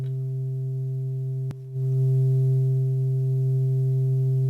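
Steady sine tone from a Cre8audio East Beast synthesizer, a pure sustained pitch with a brief click and short dip before it resumes slightly louder and holds alone.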